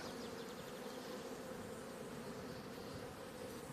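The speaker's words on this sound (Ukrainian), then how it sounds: "Це у нас темна рамочка, бджоли куча, бджоли просто багато" Honeybees from a huge swarm buzzing on a dark hive frame, a dense, even drone that stays steady and close from start to finish, with no voices.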